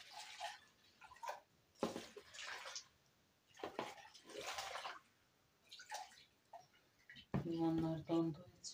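Water is poured to dilute strawberry lemonade in a kitchen, coming as intermittent splashing pours and trickles between pauses, close and fairly quiet, with a brief tonal sound near the end.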